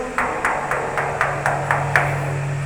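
Eight evenly spaced hollow knocks on a full water tank, dull and close, with a steady low hum underneath.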